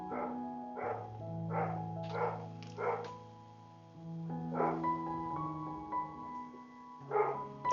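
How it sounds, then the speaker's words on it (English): Several dogs bark in short bursts in a home, a bit distant and moderately loud, with uneven pauses between the volleys. "Again, I apologize for the barking dogs."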